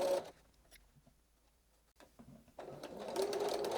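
Sewing machine stitching a homespun fabric rag quilt, a short close burst of rapid stitching, a quiet pause, then stitching resumes and builds louder.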